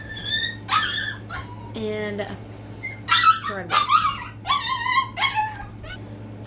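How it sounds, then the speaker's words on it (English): A pet dog whimpers and yips in a series of high, whining cries and short barks indoors over a low steady hum, with a person speaking briefly in between. "That dog you keep hearing bark is the dog that we chose to keep."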